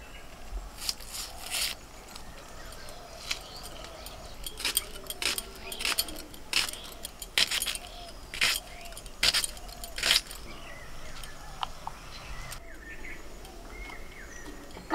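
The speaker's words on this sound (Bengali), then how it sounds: "পেঁয়াজ কেটে নিই।" A knife chops large Bombay onions on a board in a run of sharp, irregular cutting knocks at close range, with quiet pauses between bursts.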